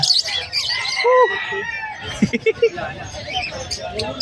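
Harsh squawks from a Yellow Face Opaline Dun Fallow bird ring out in short bursts, a few calls close together, with chirps and a person talking softly underneath, at a pet market in Malabon.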